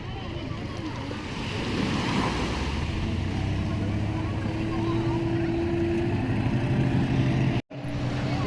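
A boat arriving at sea near St Mary's Island off Udupi, Karnataka: a steady engine drone and hum under wind and waves, close and continuous, with a brief dropout near the end.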